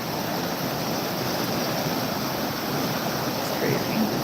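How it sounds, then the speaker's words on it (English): The flooding White River in Enumclaw, Washington, a steady broad roar of rushing water that stays loud and even throughout, with no voices. "This is White River in Enumclaw, Washington. And we're looking at the flooding on day 7"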